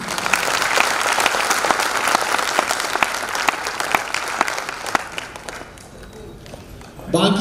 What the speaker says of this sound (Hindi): तो हाँ, एक बार तालियां होनी चाहिए इस्कॉन रीवा की।